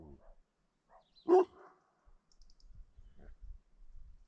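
A dog gives one short, close bark outdoors on a rocky trail in the Verdon, among scattered quiet rustles and faint movement noises, with long near-silent gaps.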